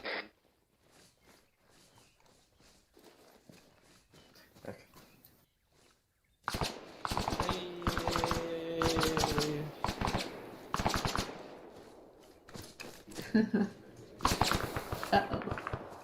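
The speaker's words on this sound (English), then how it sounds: "That's silenced fire east, I think." Silenced gunfire in the military shooter ARMA 3: quiet beginning, then from about six seconds a run of muffled, clipped shots and clicks alongside other game noise, with people talking over it.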